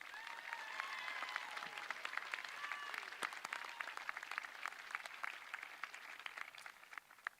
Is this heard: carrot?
no